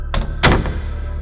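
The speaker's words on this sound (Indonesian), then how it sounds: "Bayu menarik Dimas keluar, dan mereka menutup pintunya dengan tergesa-gesa." A door slams shut in a hurry, a sharp wooden thunk preceded by a quicker knock, then a short ringing decay, loud and close with no talk.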